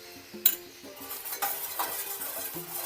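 A spoon stirs dry ginger powder into hot jaggery syrup in a pan, making soft scraping and clinking against the metal with one sharper knock near the start. The sound is close and quiet.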